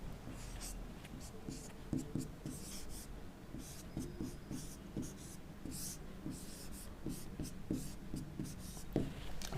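Chalk or marker writes on a board during a chemistry lecture, a series of soft tapping and scratching strokes in irregular bursts, with faint voice underneath.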